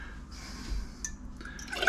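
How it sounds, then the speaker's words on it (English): Water trickles and drips as glass bottles are tipped and filled by hand for sterilizing, a short, quiet burst of pouring with a gurgle toward the end and no talk. "So I just tip them like that and fill them full of water and stand them up."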